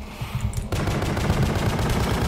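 The Boga weapon fitted with a fire-rate attachment in The Pony Factory fires a rapid, continuous burst of close, loud gunshots in a fast mechanical rhythm.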